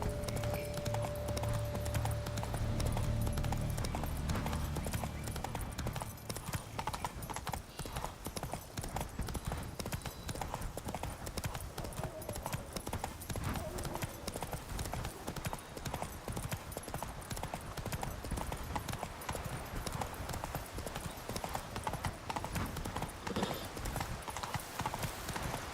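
Roach, a horse in The Witcher 3 game, gallops with rapid continuous hoof clip-clop, steady and fairly loud over game ambience, with a brief whinny early on.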